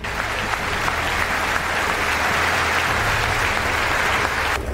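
Dense, sustained applause fills the US Congress chamber as PM Narendra Modi enters, a continuous roar of many hands clapping at once with crowd noise underneath, loud and steady throughout.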